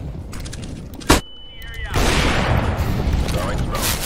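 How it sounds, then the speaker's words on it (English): A grenade goes off in the shooter game CS:GO: one sharp bang, a thin high ringing tone that lingers for under a second, then a loud, sustained roar of noise with other game sounds mixed in. "Grenade out. Throwing grenade."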